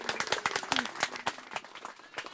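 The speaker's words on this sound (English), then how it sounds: "How about a round of applause for Abby?" Scattered, lively hand clapping from wedding guests breaks out for Abby, sharp close claps in an uneven rhythm with a voice briefly heard among them.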